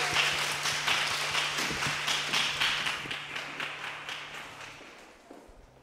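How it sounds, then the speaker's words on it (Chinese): Applause at a church gospel concert after a kindergarten children's choir performs, a dense wash of many hands clapping that slowly fades away toward the end, with scattered louder claps standing out. "掌声。"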